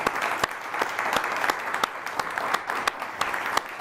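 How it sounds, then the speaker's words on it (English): An audience applauds Delia Fernández-Jones at a talk on "Making the MexiRican City," a steady wash of clapping from a moderate-sized crowd with sharper individual claps popping out near the microphone throughout. "let us first of all give Delia our thanks and a big round of applause"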